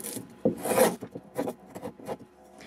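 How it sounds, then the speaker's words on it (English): Hand tool trims up ends in guitar making, giving several close raspy filing and rubbing strokes on wood in an uneven rhythm, fairly quiet. "And as always, I trim up those ends."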